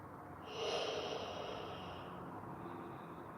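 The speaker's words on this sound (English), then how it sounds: "Five deep belly breaths here." A slow, deep belly breath during a yoga session, a steady airy exhale heard close and alone for a few seconds, with a faint hiss above it.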